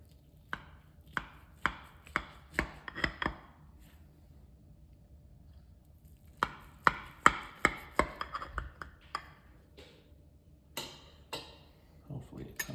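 A knife cuts a slice from a freshly baked breakfast pie, making clusters of crisp tapping and chopping knocks against the dish, separated by quiet pauses.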